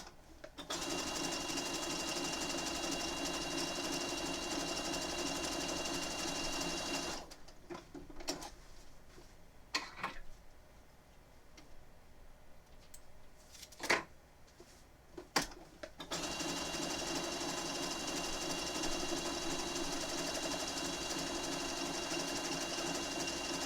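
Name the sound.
sewing machine stitching down Pokémon appliqué on quilt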